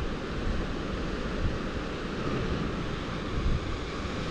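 Steady wash of waves on a beach at dusk, a broad continuous surf roar mixed with some wind across the microphone, with no voices and no distinct individual breakers.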